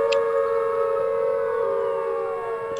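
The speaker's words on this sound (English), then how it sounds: "You can still hear the sirens." A loud, sustained siren wails steadily in a Siren Head video game, its tone holding nearly level with a slight downward glide near the end.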